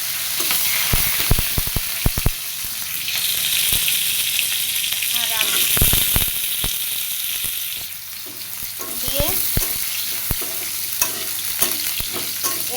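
Black cumin seeds and green chillies fry in hot oil with a loud, close sizzle, punctuated by repeated sharp clicks and scrapes of a spatula stirring the pan.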